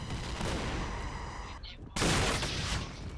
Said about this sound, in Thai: เฮ้ยหลบหลบหลบจะยิงถังแก๊สแล้ว